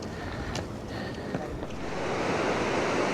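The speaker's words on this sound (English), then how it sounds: "This is Torquay Beach." Surf waves at Torquay Beach on Australia's Great Ocean Road, a steady broadband wash of breaking water that swells slightly louder toward the end, with no talk.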